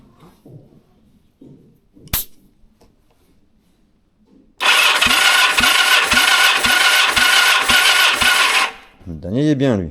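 Yamaha XS1100 motorcycle from 1978 under restoration, its electric starter cranking the engine loudly for about four seconds with a steady rhythmic chug of several compression pulses, preceded by quiet workshop sounds and a brief click.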